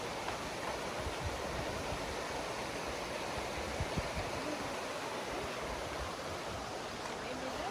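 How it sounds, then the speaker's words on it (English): River flowing below a nature trail among mountains, a steady distant rushing wash of water that holds evenly throughout with no other clear sounds. "See that beautiful river down there?"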